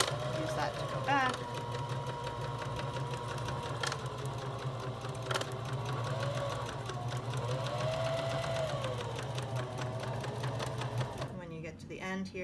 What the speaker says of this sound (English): we're going to take a few stitches forward